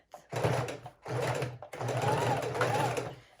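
A sewing machine runs a zigzag stitch around a fabric book cover in three short bursts of steady motor whir and needle chatter, close and fairly loud, separated by brief pauses.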